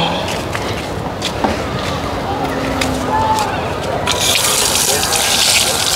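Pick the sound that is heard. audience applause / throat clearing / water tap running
water tap running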